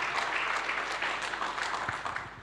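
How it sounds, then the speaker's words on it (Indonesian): A church congregation at a Sunday worship service gives a short burst of applause. The clapping is full and fairly loud for about two seconds, with no voices over it. "Berikan tepuk tangan"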